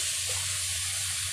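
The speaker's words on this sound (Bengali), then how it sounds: "এই যে ডাটা আলু এখন কষাবো।" Tender stem greens and potatoes sizzle in a pan of cooked-down spices, a steady close hiss with a low hum underneath and no voices.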